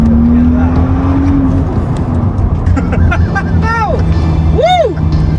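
A Valencia orange remapped BMW M135i with about 330 bhp drives by with a loud engine rumble and rising, falling revs, while a person talks over it and sharp squeaks come near the end.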